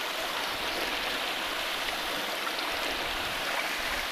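Steady rush of running water from a drinking spring near Marmaris, a constant close, bright hiss flowing without pause and no voices.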